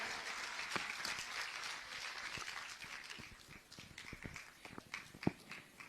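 Faint, distant applause from the audience at a Kurdish poetry gathering, a soft, steady patter of many hands with a few sharper claps near the end.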